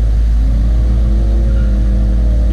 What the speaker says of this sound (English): we're going to see the C10 launch here in a minute